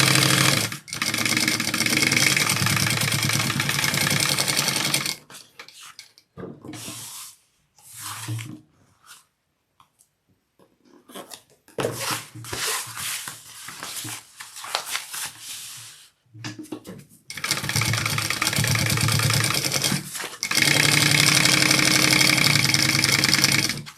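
A sewing machine runs along the sides of a handbag pocket to close it, loud and close, in long steady bursts at the start and end with shorter stop-start runs and quiet gaps in between.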